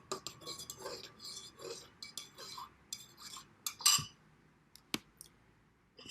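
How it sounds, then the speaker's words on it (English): A spoon stirring seeds into a cup of chai, giving a series of light clinks and taps against the cup, close and quiet, with a brighter ring near the end and no talking. "drop these gorgeous seeds into your tea. Give it a bit of a stir."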